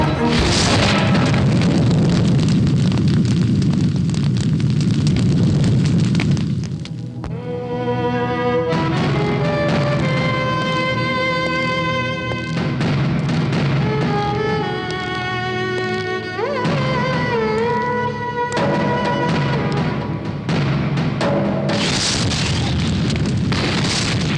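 Bomb blast explosions in a Hindi action film set in Bengaluru city roar as a loud, sustained rumbling burst for several seconds, then give way to dramatic music.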